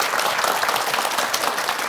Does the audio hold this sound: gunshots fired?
no